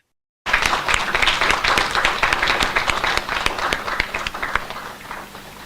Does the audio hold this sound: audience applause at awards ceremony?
yes